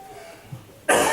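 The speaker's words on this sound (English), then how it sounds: "Excuse me for coughing." A preacher coughs once, loud and close, after a quiet pause in a church sermon.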